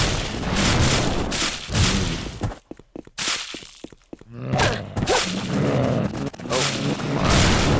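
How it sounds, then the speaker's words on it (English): Exploding zombies in the video game Rock Zombie, heard as a run of loud booming blasts and thuds with dense game noise, some bursts in quick succession and brief quieter gaps between them. "watch those exploding zombies"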